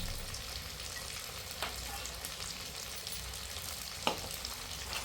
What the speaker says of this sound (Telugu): అల్లం ఎల్లిగడ్డ ఫ్రై అయింది